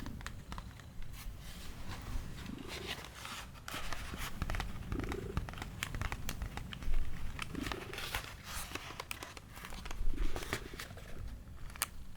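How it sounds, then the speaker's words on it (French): A cat purrs softly and steadily in the background under a quiet evening routine, with faint rustling and small handling noises layered over the low continuous rumble. "il y aura le ronron de Maddy en fond"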